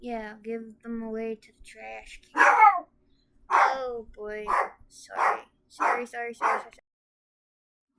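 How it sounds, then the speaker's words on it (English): A dog barks in several short bursts close by, with a woman's speech in between the barks. "And sorry about the dog barking."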